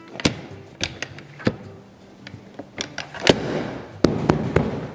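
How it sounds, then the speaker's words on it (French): Folding backrest of a VW T5/T6 van bench seat, with sharp mechanical clicks and clacks of the latch and seat hardware, irregular and close, the last clacks grouped together, no talking. "maintenant quand je tire, bim, le système s'enclenche et je peux rabattre le dossier"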